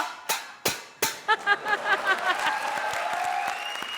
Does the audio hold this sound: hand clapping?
yes